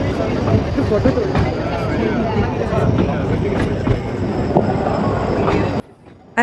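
A tram on a tramway in Wales rumbles along its track with steady, dense rolling and rattling, clacks and faint squeals from the wheels, while a person talks over it; the noise briefly drops out near the end.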